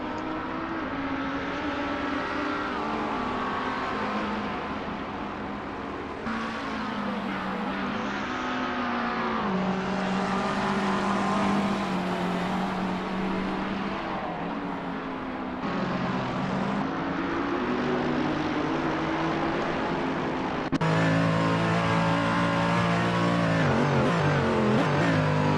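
Race car engines drone and rev continuously through a sim racing event at the Magione circuit, with shifting pitch as the cars accelerate and pass. The sound is loud and sustained, and a louder surge comes near the end.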